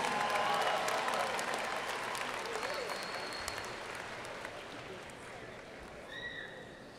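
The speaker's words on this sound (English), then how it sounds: "please give a warm round of applause to our 2017 Master of International Public Policy Management graduates" A large audience applauds 2017 Master of International Public Policy Management graduates at the USC Price commencement ceremony, a dense steady wash of clapping from a big crowd that slowly fades, with faint voices beneath.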